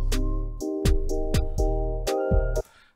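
Basic programmed drum beat pattern with kick, snare hits and hi-hat over a sustained backing chord, a few bars of steady rhythm that cut off abruptly at the end.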